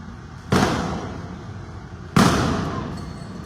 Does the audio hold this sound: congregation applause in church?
no